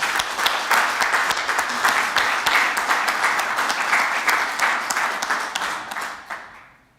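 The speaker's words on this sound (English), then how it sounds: "I hope you will join me in a round of applause as a token of our collective thanks" A round of applause at a district council meeting, many people clapping in a dense, even patter for about six seconds before it tapers off and stops.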